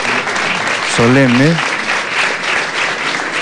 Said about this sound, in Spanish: Podemos despedir al presidente de la República con un aplauso